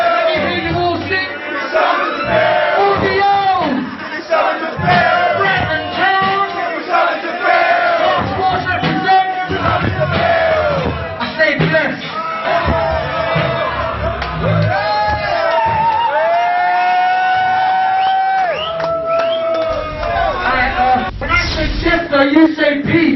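Crowd at a UK hip hop gig singing along and cheering, loud massed voices and shouts filling the room, with whoops rising over the chanting throughout.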